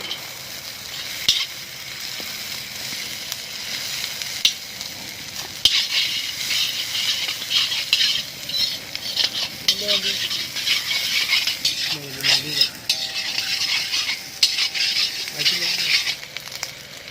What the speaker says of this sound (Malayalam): അപ്പോൾ നമ്മൾ ഉള്ളി ഇടാണ്.